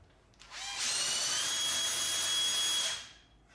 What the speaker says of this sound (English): I'm going to use the air cutoff tool again to shorten that to that length.